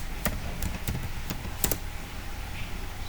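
Typing on a computer keyboard, a short run of about half a dozen crisp, irregular key clicks close to the microphone over a faint room hum, no voices.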